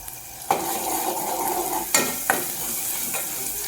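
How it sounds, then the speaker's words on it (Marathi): Ground masala paste fries in a pan with a loud steady sizzle, broken by a few scraping strokes of a spoon stirring it. "आपण इथं तळून घेणार आहोत सगळं वाटण."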